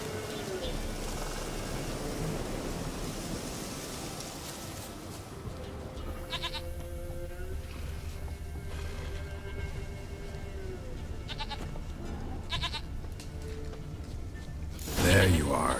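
A goat in the video game The Witcher 3 gives wavering bleats amid game ambience and mechanical clatter, with someone talking over parts of it and a sharp louder burst near the end.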